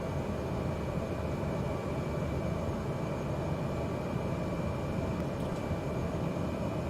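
An airplane engine in Microsoft Flight Simulator 2020 hums in a steady, even drone as the flaps are lowered, with no voices over it.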